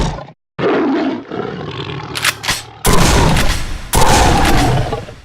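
Shotgun blasts fired at a monster in a game, two heavy booming shots cutting through a loud creature roar, with sharp cracks and a brief silent gap early on.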